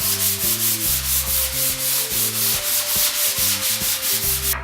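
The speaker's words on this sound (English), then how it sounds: "now I'm just going to sand everything down." Light sandpaper is rubbed back and forth over a wooden TV stand in quick, even strokes, a close, steady rasping with a regular rhythm and no talking.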